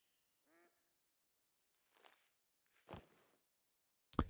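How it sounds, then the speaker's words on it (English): Ducks quack in theHunter: Call of the Wild, with a short nasal call at first, then scattered rough bursts and a louder one at the end, heard fairly close against otherwise quiet surroundings. "We have some duck circling the lake, looking for a great spot to land."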